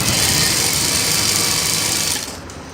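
A sewing machine stitching a fabric belt for a readymade saree runs as a steady, loud motor whir with a rapid needle chatter, then eases off near the end.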